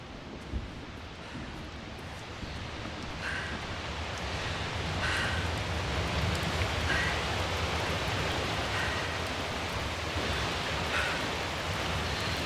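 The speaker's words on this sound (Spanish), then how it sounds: "The storm's getting worse." Heavy storm rain and wind in the sci-fi game The Invincible, a dense steady roar of hiss that swells slightly and holds throughout, with no speech.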